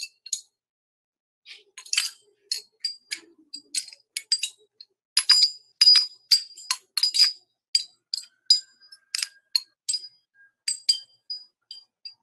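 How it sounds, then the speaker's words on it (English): Wind chimes are struck and jangled, producing bright glassy clinks and chimes in irregular clusters, close and clear against silence, with no talking. "Could we hear what the wind chimes sound like?"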